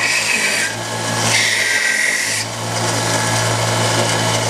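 A wooden bumper for a handmade toy car is shaped with a power tool, giving a steady grinding whir that swells into harsher rasping bursts. It is close and heard alone.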